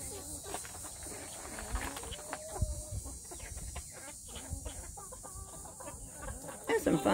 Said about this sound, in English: That's some funny chickens.